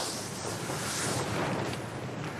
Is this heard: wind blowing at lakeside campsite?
yes